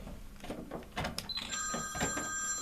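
A telephone bell rings faintly in the background amid clattering and handling noises while a time capsule is opened, the ringing tones surfacing in short bursts under the bustle.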